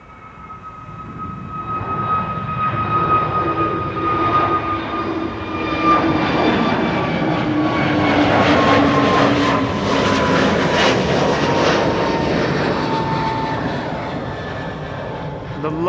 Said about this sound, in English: And this is Pegasus. Flight 1252 to Istanbul. A321neo.